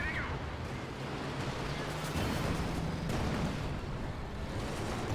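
Rocket artillery batteries in a wartime strategy game fire on a Comet tank, making a continuous, dense rumble of launches and impacts that swells slightly midway.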